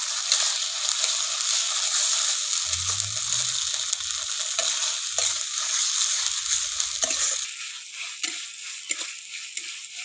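Onion paste being fried with two slit green chillies as the base of a katla fish and potato curry, giving a loud, steady hiss of oil with occasional clinks and stirring, and no talking.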